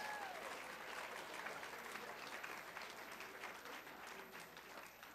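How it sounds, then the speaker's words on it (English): Applause from a keynote audience at a school event, a continuous wash of many hands clapping at moderate distance with some voices mixed in. "Let's give another round of applause for Gina."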